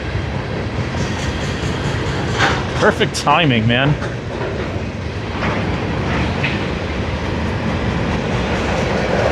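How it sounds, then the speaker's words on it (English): A freight train rolls past on rails, a steady rumble with clattering wheel noise running the whole time. Someone talks briefly over it, and a short squealing, warbling tone rises near the middle. "These are freight trains."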